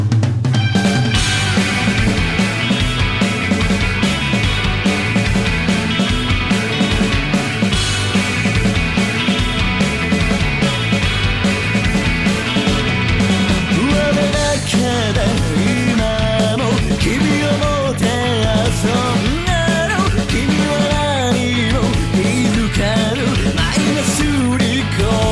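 Early Visual Kei music by a Japanese band: dense, loud, continuous rock with driving drums, distorted guitars and shifting melodic lines, playing alone throughout.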